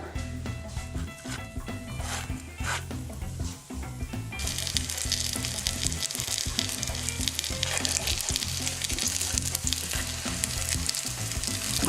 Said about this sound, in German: Den bringen wir dann in die Pfanne.